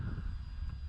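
An RC F8F Bearcat model airplane engine at low power gives a steady, low droning rumble, continuous and moderately distant with no voices.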